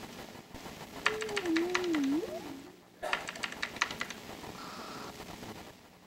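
Keyboard typing in two bursts of rapid clicks, with a brief pause between them and a sliding tone in the first burst; fairly quiet and without speech.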